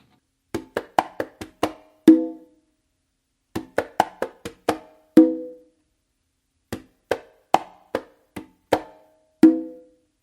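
Conga tumbao run through three times, each phrase a quick string of finger, bass and palm-slap strokes, a brief hesitation, then a booming open tone, played alone and close up.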